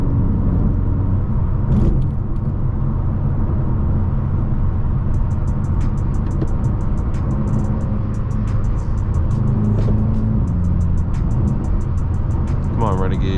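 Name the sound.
BMW M6 engine while driving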